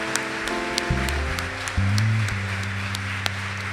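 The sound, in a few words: congregation applauding in church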